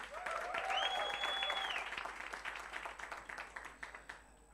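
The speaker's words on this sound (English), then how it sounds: "Please, let's give our online audience a round of applause." A workshop audience applauds in a dense wave of clapping that swells quickly and then thins into scattered claps as it fades, heard alone with a faint tonal whistle above it.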